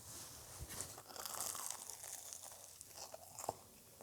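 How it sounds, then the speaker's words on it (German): Teeth biting into crispy fried Schürzkuchen pastry: a close, loud crunch followed by a few crackly chewing crunches and one sharp snap near the end, with no talking. "Hört ihr, wie das knuspert?"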